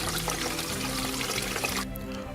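Fresh spring water pours and splashes steadily while supplies are filled on a hiking trip in the Central German Uplands, a broad, close gushing that runs without pause before cutting off near the end.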